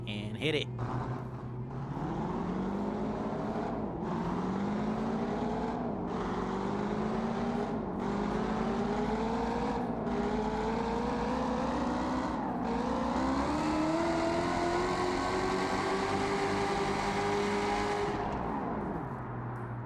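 A 1965 Mustang Boss 302 engine in the BeamNG.drive game revs loud and close with nitrous armed. Repeated rising pulls climb in pitch, broken by short gear-change dips, before cutting off near the end, with someone talking over it.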